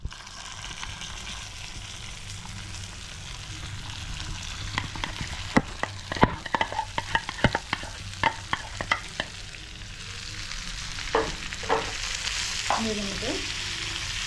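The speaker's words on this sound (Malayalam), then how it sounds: "നമുക്ക് ഇനി വെണ്ടയ്ക്ക ഇട്ട് കൊടുക്കാം." Okra going into hot oil for a Kerala-style fry, with a constant low sizzle, then a burst of sharp spatula clicks and scrapes as it is stirred in the pan, close up, with a few brief spoken words.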